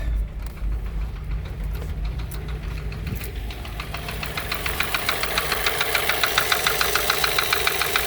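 A Volkswagen Jetta GLI MK5 with the FSI engine, started again after sitting three years, runs rough and struggles to hold an idle. Uneven knocking and sputtering come at first, then settle into a faster, regular ticking pulse, close and with no voices over it.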